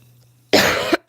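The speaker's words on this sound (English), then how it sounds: "I'm sorry, I'm coughing." A single harsh, loud cough close up after quiet, followed by the start of a second cough.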